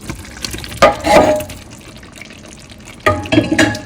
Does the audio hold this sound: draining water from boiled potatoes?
yes